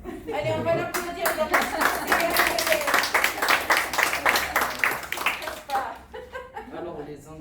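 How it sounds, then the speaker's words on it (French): Small audience at a bakery demonstration claps in a short lively burst with a few chuckles mixed in, while people talk before and after. "on va l'applaudir"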